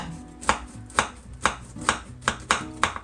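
A knife cuts through a pan of slightly warm peanut butter Rice Krispie treats with seven evenly spaced crunchy chops, close and clear with no talking.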